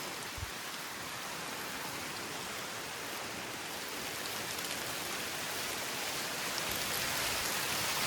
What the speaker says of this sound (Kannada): ಮಳೆ ಜೋರು ಬಂತು.